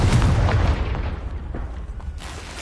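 A Confringo blasting spell explodes in the Hogwarts Legacy video game, a loud deep boom with a burst that decays over a couple of seconds, alone without talk.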